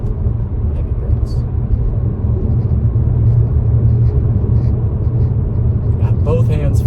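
A supercharged Audi A7 drives along back roads with a steady, deep engine and road rumble close by, while a person talks over it the whole time.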